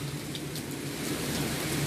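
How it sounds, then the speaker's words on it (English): Heavy rain pours steadily onto a porch on a stormy night, a loud continuous downpour hiss with a low thunder rumble beneath it, with no voices. "my feet are soaking wet because the rain is coming on the porch"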